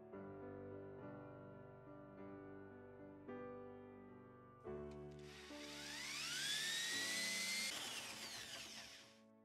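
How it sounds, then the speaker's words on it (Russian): Power drill boring an 18 mm hole through a metal carriage on a homemade pipe bender, first steady tonal whirring in stages, then a louder rising screech and hiss as the bit bites into the steel. "просверливаем отверстие диаметром 18 мм"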